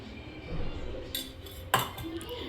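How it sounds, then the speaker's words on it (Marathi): Spoon scraping and clinking against a bowl while yogurt is mixed into soybeans for biryani, with soft stirring sounds and a couple of sharper metallic taps, quiet and close. "सोयाबीन मध्ये मी दही मिक्स करते"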